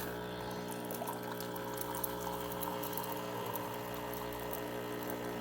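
A steady stream of hot water pours from a Sur la Table dual boiler espresso machine, accompanied by a continuous low pump hum, fairly quiet and unbroken throughout.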